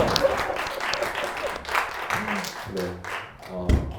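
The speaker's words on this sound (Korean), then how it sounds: "박수 한번 쳐주시겠어요?" An audience at a youth ministry leaders' training session claps on request, a short burst of applause mixed with voices and some scattered individual claps.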